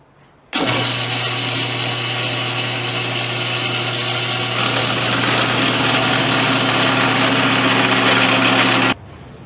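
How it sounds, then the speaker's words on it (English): A power drill bores a dowel hole into a wooden banjo neck. After an abrupt start it runs as a loud, continuous high-pitched whine for about eight seconds, then stops sharply. "I'm ready to drill the hole for my dowel that goes into the neck"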